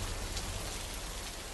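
Steady, dense rain falls continuously in a video game scene, a close, even wash of hiss with no pauses and no voices.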